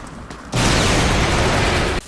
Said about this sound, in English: even the explosions are constantly surprising with how goddamn good they feel